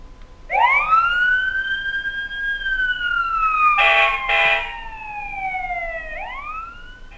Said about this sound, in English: I want to ride the fire truck.